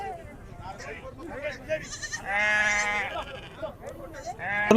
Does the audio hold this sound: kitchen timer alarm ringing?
no